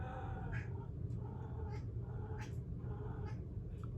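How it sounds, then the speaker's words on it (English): A hungry house cat meows and complains indoors, giving four or five drawn-out, whiny calls at a steady pace, moderately close and fairly quiet over a low room hum. "Don't mind my cat. He's going crazy."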